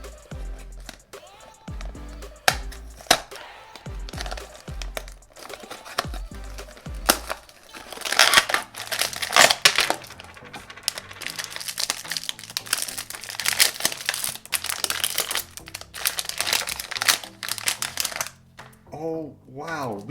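A blind box package is torn open and its wrapper crinkled by hand, up close: irregular clicks and taps at first, then a dense, loud run of crackling plastic rustle that continues through the end, with some faint talk now and then.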